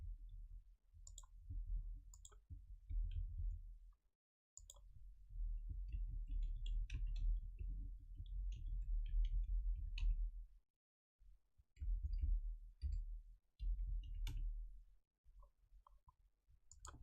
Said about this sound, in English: I'm typing all my information here.